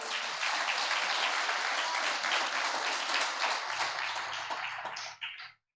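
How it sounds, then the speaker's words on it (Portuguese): A church congregation claps loudly in praise, a dense, sustained burst of applause that fills the room for about five seconds before quickly tapering off and stopping. "Aplauda bem forte o Senhor."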